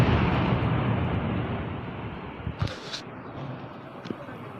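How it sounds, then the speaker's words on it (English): Explosions from military strikes between India and Pakistan boom in a broad rumbling wash that fades, followed by a few sharper distant blasts and thuds. "Those the sounds of explosions during those strikes"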